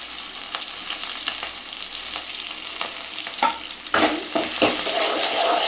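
Onions pounded with curry leaves sauté in oil for chicken curry, hissing in a steady sizzle. A spoon stirs and scrapes the pan repeatedly, growing louder near the end.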